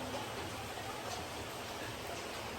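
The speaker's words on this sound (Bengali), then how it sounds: "সকাল থেকে বৃষ্টি হচ্ছে" Steady rain falling outside a home kitchen, a soft continuous hiss with no distinct drops, faint and even throughout.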